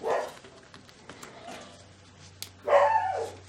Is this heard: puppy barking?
yes